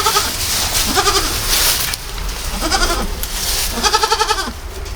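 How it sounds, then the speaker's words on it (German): A newborn female dwarf goat kid bleats in a stable, giving about four loud, close, wavering cries with short pauses between them. "Ist tatsächlich ein Lämmlein geworden, ein weibliches Lämmlein."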